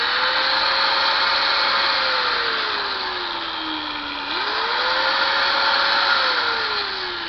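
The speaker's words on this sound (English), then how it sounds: "And that's a good old style Metabo grinder for you." An old-style Metabo angle grinder runs continuously during its final test after repair, giving a loud, steady motor whine and airy rush whose pitch sags gradually, then jumps back up and slowly falls again, with no talking.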